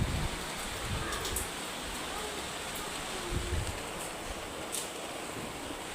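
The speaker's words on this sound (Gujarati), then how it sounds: "વરસાદ આવો કેટલો પડે છે જુઓ તમે" Rain falling in Kutch under dark clouds, a steady broadband hiss of outdoor downpour with slight wind buffeting, constant and even throughout, a few faint knocks beneath it.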